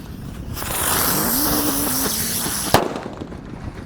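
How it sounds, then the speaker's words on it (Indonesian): A green spinning ground firecracker ignites and whirls, a loud hissing, crackling spray with a rising whistle-like tone, ending in a sharp pop near the close. "Selanjutnya yang kita nyalakan di sini ada mercon teratetor guys. Ini bisa mutar seperti gangsing warnanya hijau."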